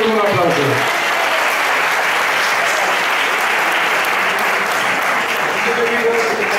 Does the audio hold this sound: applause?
yes